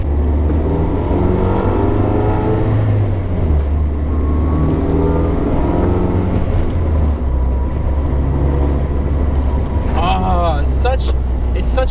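A car engine idles and revs repeatedly with a raspy, rumbling exhaust tone, rising and falling close by, with a brief higher whine near the end.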